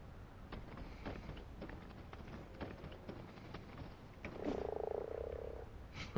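A rideable frog mount in the game Ark croaks once, a short buzzing, resonant croak rising out of a quiet bed of soft rhythmic footsteps and light wind.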